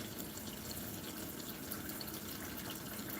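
Water pours steadily into a pot of beans on a kitchen counter, a soft continuous rushing fill with no talking.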